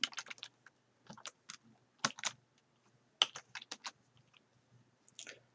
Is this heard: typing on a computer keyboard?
yes